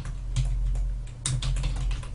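Fast typing on a computer keyboard while entering a spreadsheet scenario name, with steady close key clicks and no speech.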